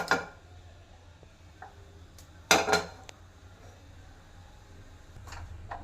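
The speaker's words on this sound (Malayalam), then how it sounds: "ഇനിയൊരു പാൻ അടുപ്പിച്ച് വെച്ചിട്ട്" A pan set down on a kitchen stove: one loud metallic clatter with a short rattling follow-up midway, a few faint knocks and clinks around it, in a quiet room with no talking.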